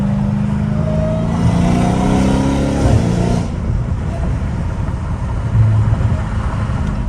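A Dodge Challenger Hellcat Redeye with catless and catback exhaust revs hard from inside the cabin, a deep roaring climb that peaks and then drops back to a rumbling idle, loud and close.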